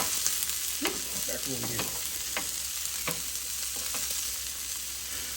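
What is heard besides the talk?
steak sizzling on a Blackstone griddle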